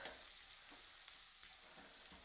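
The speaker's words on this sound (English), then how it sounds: "I am going to go stir the onions really quickly because I can hear them sizzling away" Faint, steady sizzling of onions frying in a pan, a soft continuous crackle with occasional stirring scrapes and no talk.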